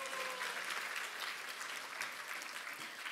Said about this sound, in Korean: 신익희 초대 당대표님께 큰 박수 부탁드립니다.